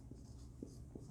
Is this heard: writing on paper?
yes